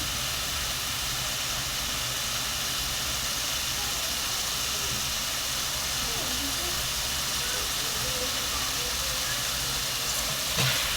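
Prawns frying in a pan: dense, continuous sizzle and hiss at steady loudness throughout, close and unbroken, with a faint tap near the end.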